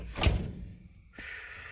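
A single solid thunk as the door of a 1987 Dodge Ramcharger swings shut, close and fairly loud, followed by a quieter interior hush.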